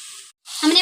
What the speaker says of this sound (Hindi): अब हम इन सब्जियों को 5 से 6 मिनट भूनेंगे हल्की आंच पे।